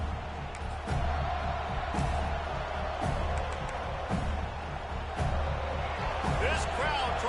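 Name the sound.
stadium crowd noise in Madden 26 video game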